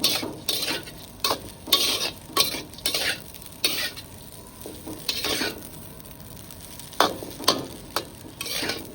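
A Solapuri-style chana dal and peanut dish being sautéed with a tempering in a pan, with repeated scraping stir strokes and a steady sizzle, close and fairly loud.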